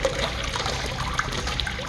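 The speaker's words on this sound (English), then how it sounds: "Alright, now we're going to let it flush once." A toilet fitted with an offset flush valve kit flushes once, giving a steady, fairly weak rush and trickle of water that runs evenly throughout, up close with no talking.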